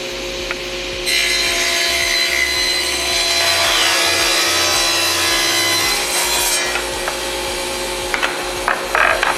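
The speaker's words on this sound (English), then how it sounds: "I'm going to turn the machine on, push the board all the way through" A table saw starts up and its blade rips through a wooden board, a steady loud whine and cutting roar from about one to six seconds, then the motor spins down with a few light knocks near the end.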